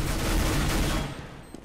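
Counter-Strike gunfire in a continuous dense burst of rapid shots, loud and close, cutting off sharply before a short quieter tail.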